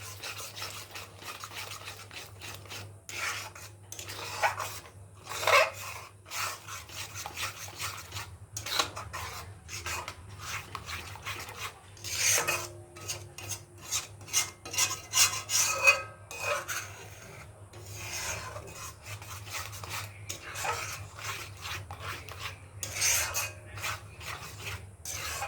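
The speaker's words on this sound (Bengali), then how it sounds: "এবার এটাকে আমরা হালকা করে নাড়া দেবো" A paste is stirred lightly in a cooking pan, giving a steady run of soft scraping and rubbing strokes with occasional utensil clinks, close and continuous over a low background hum.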